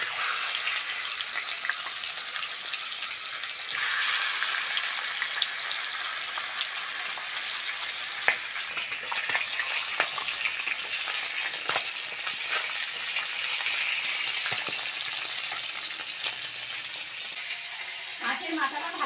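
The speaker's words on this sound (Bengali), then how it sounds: "মাছের মাথাটা ভালো করে ভেজে নিয়েছি, এবার তেল থেকে তুলে নেব।" A fish head fries in hot oil seasoned with salt and turmeric: a dense, steady sizzle and crackle runs unbroken throughout, with occasional clicks and faint stirring.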